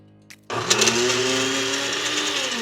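A blender kicks on after a brief pause and runs steadily, whirring loud and close as it purees garlic with a little milk for a crustless broccoli and cheddar quiche.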